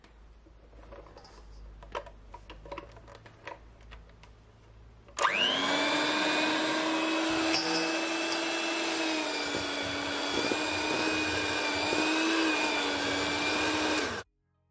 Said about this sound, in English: I'm gonna take my hand mixer and mix it